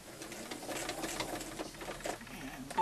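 A sewing machine stitches a fabric face mask, starting with a short back stitch: a close, steady mechanical whir with uneven stitching pulses running throughout.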